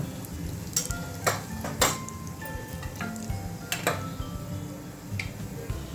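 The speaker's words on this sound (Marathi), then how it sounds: "आता टाकायची फोडणी मोहरी जिरं आणि थोडंसं हिंग" Mustard seeds, cumin and asafoetida temper in hot oil, giving a faint, low sizzle. Scattered sharp pops and ticks from the seeds sound close by, with no talking.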